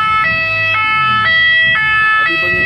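Ambulance siren wailing in a steady two-tone pattern, loud and near, with low background murmur underneath, at a funeral procession for a musician.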